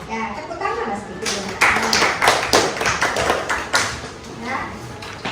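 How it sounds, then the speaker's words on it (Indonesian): Students in a classroom giving a brief round of hand clapping, a burst of sharp claps in the middle that tapers off, with a voice talking before and during it. "tepuk tangan lah sedikit"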